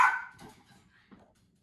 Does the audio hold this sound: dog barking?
yes